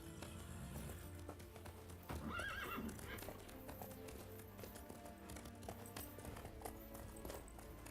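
A horse in the video game The Witcher 3 clip-clops on hooves near a bridge and lets out a clear whinny, with rhythmic hoof taps continuing around it over quiet game ambience.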